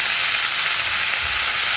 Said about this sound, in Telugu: వీలైనంత వరకు సన్నగా తరిగినవి వేసుకొని అడుగుదాకా కలుపుకోవాలి ఫ్రెండ్స్.